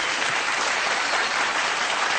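A large audience at the Star GIMA 2014 music awards show breaks into loud, sustained applause in a steady, dense wash of clapping that fills the hall without letup.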